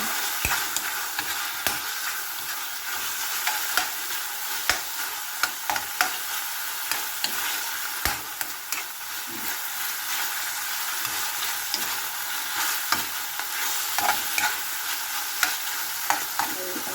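Chopsuey vegetables with pork liver and shrimps being stirred in a pan, with steady sizzling frying and repeated sharp utensil scrapes and taps against the pan, close and alone without talk.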